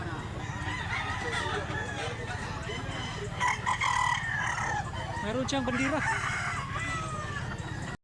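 A rooster crows close by, with its calls rising over a steady noisy outdoor background in the Cebu countryside, and someone speaks briefly.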